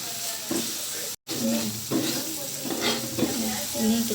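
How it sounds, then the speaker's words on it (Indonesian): Meat and spices sizzle and fry in a pan while a utensil stirs and scrapes, with steady loud frying hiss and repeated stirring strokes, one brief dropout partway through. "Ini kita aduk. Kalau udah wangi, masukin daging."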